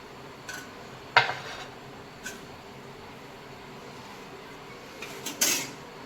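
Eggplant and potato curry being ladled into a bowl, with a few sharp clinks of a spoon against metal or ceramic scattered over quiet kitchen background, the loudest near the start and another cluster at the end.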